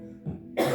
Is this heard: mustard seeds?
no